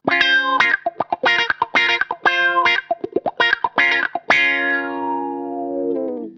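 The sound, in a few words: funky auto-wah guitar with percussive strumming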